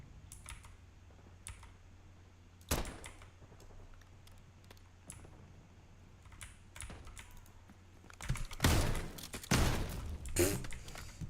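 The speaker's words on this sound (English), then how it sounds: "I hit the keyboard." Computer keyboard keys struck during gaming, with scattered close clicks and taps that turn into a louder, denser clatter of keystrokes near the end.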